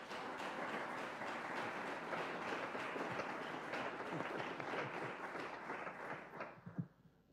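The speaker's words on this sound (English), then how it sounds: "Hans-Jochen, Selina, Michael, Ed, Big applause to you." Steady applause from a panel discussion audience, a soft, even wash of clapping that is fairly faint and distant, lasting about six seconds before it thins out and dies away.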